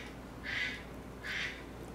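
A duck quack ringtone from a phone sounds twice, evenly spaced, each a short nasal burst over a steady low background hum.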